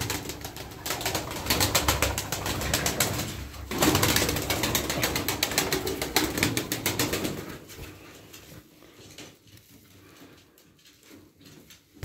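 Pigeons flap their wings in a burst of loud, rapid clattering that continues for several seconds, then fades to quieter, scattered flutters.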